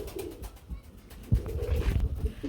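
Grizzle pigeons, a pair on a pigeon farm, coo in low soft bursts that build into a louder throaty cooing run near the end, close by with no talk.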